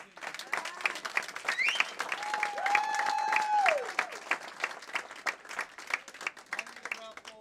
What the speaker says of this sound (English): So how about a big round of applause for both teams?